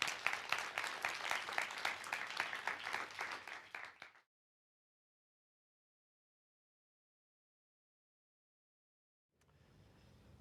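Audience applause greets a speaker coming on stage at a science talk event, a dense burst of clapping for about four seconds that stops abruptly into silence, followed by faint room noise.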